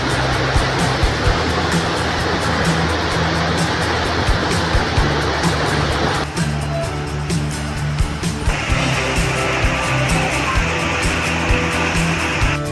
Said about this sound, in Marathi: हा धबधबा जवळपास 15 ते 20 फुटांवरून कोसळतोय।